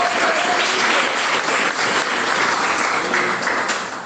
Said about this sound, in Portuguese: Quem bate palmas e glorifica a Deus.